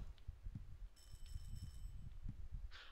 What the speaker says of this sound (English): Yeah, that's my doorbell.